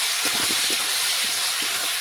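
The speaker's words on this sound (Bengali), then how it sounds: "সেই চিকেনটা ঢেলে দিলাম" Masala-marinated chicken pieces tipped into a hot pan, giving a loud, steady steamy hiss and spitting sizzle that fills the short moment, with no voices.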